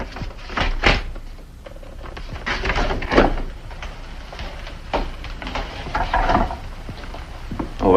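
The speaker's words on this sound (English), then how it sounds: "Drawer was stuck. This was jamming it." A stuck wooden drawer is jerked and forced open in a series of irregular knocks, scrapes and thumps, close and moderately loud.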